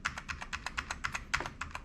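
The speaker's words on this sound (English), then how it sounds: "I hit the delete key, but I didn't get into the BIOS" Keys on a computer keyboard are tapped in a quick, fairly regular run of crisp clicks, close up, with no speech.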